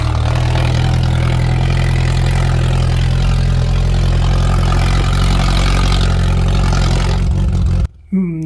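A vehicle with a broken, crudely patched exhaust pipe runs loudly and steadily, its low rumbling engine drone sounding like a motocross bike, close and continuous until it cuts off abruptly near the end.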